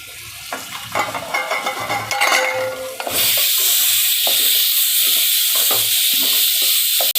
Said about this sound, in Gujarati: કેપ્સિકમ વટાણા અને કોબી નાખશું ને મકાઈ નાખી દઈશું